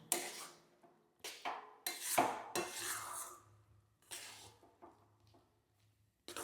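Kachki fish mixture stirred in a pan for fish chops: a series of close, loud scraping and clattering strokes of a utensil against metal, bursts separated by brief pauses, with faint softer movement between.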